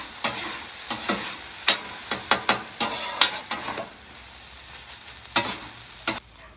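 Soy-sauce stir-fry tossed around a sloped griddle in wok style, with steady close sizzling broken by repeated sharp scraping and clanking strokes of a spatula, no talking.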